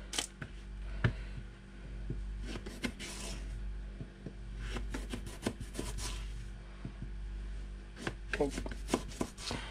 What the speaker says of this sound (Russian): Полосочками опять нарезаю.